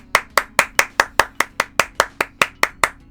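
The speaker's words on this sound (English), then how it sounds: "yes, just fucking clapping" Thirteen sharp, evenly spaced hand claps, close and crisp, each decaying quickly before the next, alone without voices.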